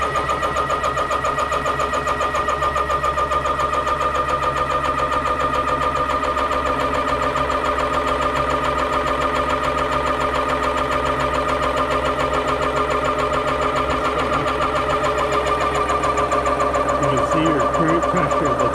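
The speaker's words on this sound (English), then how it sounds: "So I'm going to start the compressor, and once it's running, then I'm going to open the valve on the tank and let that fill." An air compressor runs steadily and loud while filling a Hatsan Piledriver airgun tank, a constant droning hum with a fast rhythmic pulse that holds unchanged throughout, with no talking.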